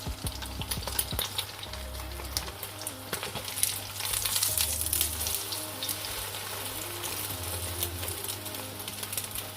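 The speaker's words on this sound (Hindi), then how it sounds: "तवे पे मैंने 2 टेबलस्पून ऑयल ऐड किया। अब मैं इसमें अंडा ऐड करूँगी।" Egg frying in two tablespoons of oil on a flat griddle, giving a steady close sizzle and crackle, with a low background hum running underneath, for a burger recipe.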